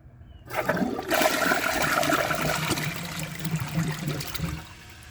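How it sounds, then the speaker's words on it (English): A 2017 Sterling Windham front-flush toilet flushes after a press and release of the handle: a close, loud rush of water starts after a brief silence, swirls for about four seconds, then drops to a trickle. "I'm going to do a press and release for the first flush"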